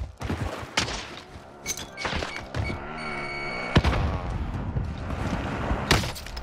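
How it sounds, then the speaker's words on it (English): Several sharp sniper rifle shots in Call of Duty Warzone crack out at irregular intervals amid thumps and other game noise, loud and punchy against a busy background. "I get sniped by the fucking guy across the way, bro."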